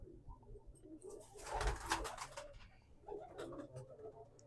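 Pigeons kept at a Punjab breeding loft coo close by in soft, repeated bursts, with a fuller swell of calls in the middle and overlapping cooing continuing to the end.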